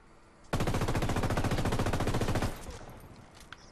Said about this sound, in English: It's an LMG with no silencer.